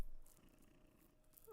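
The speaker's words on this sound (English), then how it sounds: "My cat be snoring loud." A sleeping cat snores with a soft, rumbling purr-like breath, faint and close, in a brief moment of an otherwise quiet late-night room.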